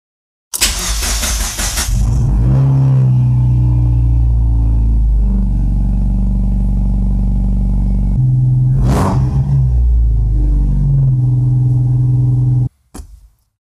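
A Mazda MX5 drift car with a DET3+ engine management fires up loud and close, then settles into a rough idle. It gives one sharp rev blip near the end before cutting off abruptly.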